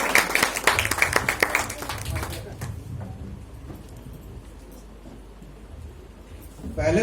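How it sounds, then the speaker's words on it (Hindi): Applause and clapping from an event audience in Jabalpur, dense and loud for about two seconds, then thinning out and fading into a quiet room. "जोरदार तालियां मिश्रा सर के लिए।"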